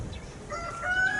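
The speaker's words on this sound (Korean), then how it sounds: "닭도 울어주고 새도 울고" A rooster crows outdoors in fine weather, a short rising cock-a-doodle-doo heard at moderate distance against soft ambient background noise.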